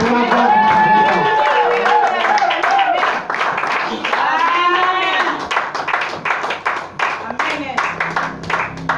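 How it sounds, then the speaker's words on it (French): Congregation at a church service cheering and clapping in praise, with loud, busy applause and voices that thin out into scattered, irregular claps toward the end. "nous acclamons, nous poussons les coups de joie pour la gloire du Seigneur"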